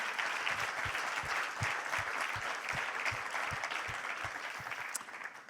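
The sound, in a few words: congregation applauding in church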